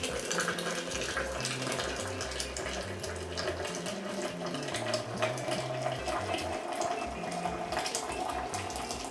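A steady stream of hot water pouring continuously from a kettle into a 5-cup French press, close up, with a low hollow gurgle that holds through the whole stretch and no talking.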